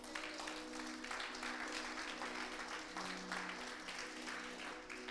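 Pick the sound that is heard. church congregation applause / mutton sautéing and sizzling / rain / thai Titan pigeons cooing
church congregation applause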